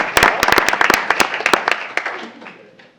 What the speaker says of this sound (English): Round of applause for your parents who are here.